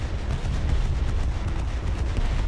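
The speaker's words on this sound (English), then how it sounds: "That ready rack room explosion doing catastrophic damage." Ammo rack detonation aboard a warship in War Thunder naval combat: a sustained, dense low rumble of blasts and debris rolling on continuously, loud and heavy without talk.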